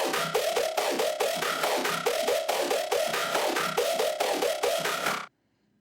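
A punchy synth bass line repeats in a steady, driving rhythm with bright buzzy attacks on each note, then cuts off abruptly near the end.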